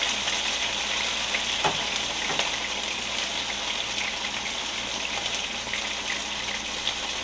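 Lamb pieces browning in plenty of oil in a pot for lamb stew, giving a steady, dense sizzling crackle with a couple of soft stirring scrapes, continuous and moderately loud.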